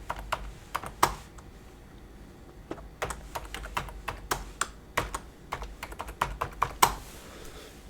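Fingers type on a computer keyboard in quick irregular bursts of sharp, close clicks with short pauses, fairly quiet and with no voice over them.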